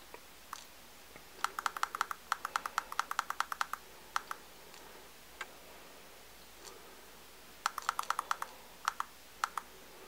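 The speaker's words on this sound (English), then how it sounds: "Nice clicky button, and it does auto scroll, and it does round robin." Buttons on a Sigelei ZMAX Telescope V5 variable-wattage vape mod being clicked, sharp close clicks in quick bursts of several presses separated by pauses, with a few single clicks in between, over a quiet background.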